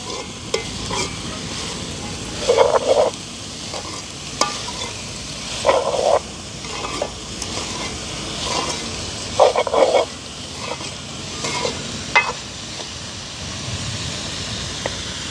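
Onion flowers sauté in a pan and are stirred for a village-style roti. A steady frying sizzle runs throughout, broken by repeated scraping stirs that come in short bursts, heard close with no speech.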